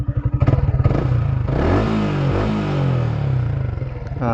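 A Yamaha R15 V2 motorcycle fitted with an R3 muffler, idling with a loud pulsing exhaust, then revving up and settling into a rough, throaty drone, close to the microphone.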